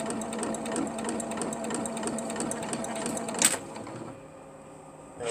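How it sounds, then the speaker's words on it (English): A sewing machine stitching a double wedding band quilt runs slowly in a rapid, steady mechanical rhythm, then stops with a click and a quieter hum. "Now I'm grabbing it and I am sewing it the rest of the way"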